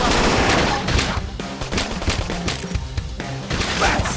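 Rapid bursts of gunfire crackle and rattle continuously, dense and loud, like an extended firefight with overlapping shots, in the video game Xenoblade Chronicles X Definitive Edition.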